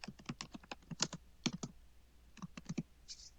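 Typing on a computer keyboard while entering a document title: close, quiet bursts of crisp key clicks in uneven rapid runs separated by short pauses, with no talking.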